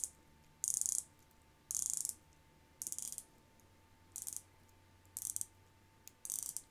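A Zelos Mako 'Lagoon Blue' dive watch bezel being turned, giving six short bursts of crisp ratcheting clicks at a roughly steady pace, close and fairly quiet, with no talking.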